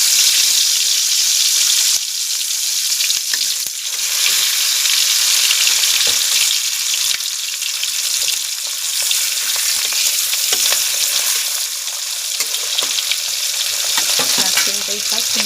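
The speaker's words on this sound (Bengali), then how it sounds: "অন্যদিকে মাছ ভাজা হচ্ছে" Fish frying in hot oil in a village-style kitchen, giving a loud, continuous, dense sizzle that stays close and steady throughout with slight swells, no voices.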